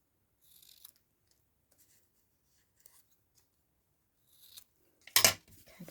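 Scissors snip through paper strips being trimmed to size for accordion pocket crafting: a few faint quiet cuts early on, then one loud, close, crisp snip near the end.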